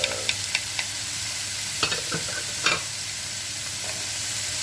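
Spring onion stalks, chopped white onion and ginger sizzle in a hot pan with a steady frying hiss, broken by a few light scrapes and taps of stirring, no talk.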